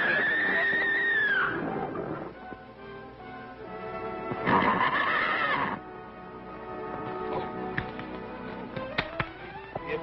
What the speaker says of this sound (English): Much obliged for the horse, Sunset